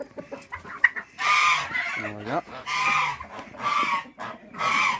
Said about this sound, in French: Voilà toutes les poules.